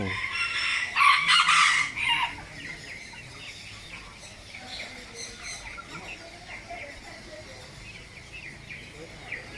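A bantam rooster crows loudly near the start at Chatuchak market, then quieter clucking and bird calls continue beneath someone speaking.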